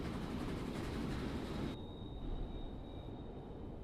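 Trains running in Transport Fever 2, a steady low rumbling roll with a thin high whine that suddenly drops in loudness partway through, no talking.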